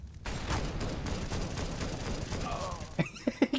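Automatic rifles fire in rapid bursts in a video game, a fairly faint, sustained rattle of quick shots lasting about three seconds before it gives way to a few louder scattered sounds and voices.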